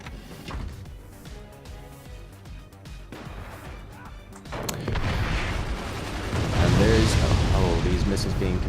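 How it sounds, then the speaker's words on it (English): Distant booms and rolling blasts of incoming rockets and mortar fire in the fort-building strategy game Forts, building in density and loudness toward the end, with a voice talking over the barrage. "More mortars landing on top of King Banana's energy production. Ooh, 3 rockets coming in."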